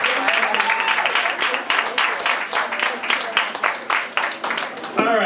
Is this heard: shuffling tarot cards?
no